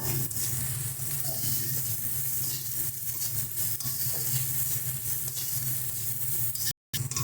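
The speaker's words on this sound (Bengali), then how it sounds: "ভালো করে সমস্ত মশলাটাকে কষিয়ে নেব।" Spices with cumin powder and salt being fried and stirred in a pan for a Ganges river fish curry, a steady close sizzle running continuously with brief soft stirring scrapes.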